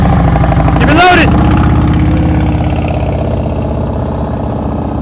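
Motorcycle engine blipping and holding steady on the throttle during slow-speed riding practice. A loud, close, even throb with a brief rev near the start, and someone talks over it.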